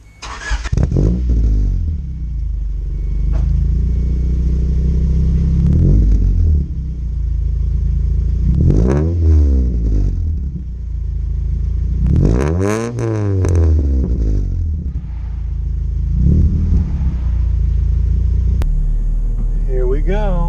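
Third-generation Honda Prelude engine pulling away and driving, a loud, close rumble that rises and falls through several revving gear changes, with people talking over it.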